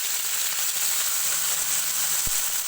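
Water spinach (kangkong) dropped into a pan of golden-browned garlic, giving a steady, even hiss of frying throughout with one small knock near the end.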